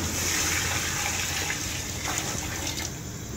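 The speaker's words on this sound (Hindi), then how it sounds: "अब मैं इसमें पानी डाल दूँगी।" Water is poured into a pot of fried masala while cooking aloo rice (taheri), making a steady rushing, splashing pour that continues for the whole stretch at a fairly even level, with no talking.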